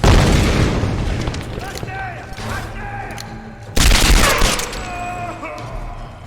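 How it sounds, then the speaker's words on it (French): Explosions in the video game Tomb Raider Definitive Edition: a loud booming blast with a long rumbling decay, then a second heavy blast midway, with crackling debris and a voice talking underneath. "Oh bah explose."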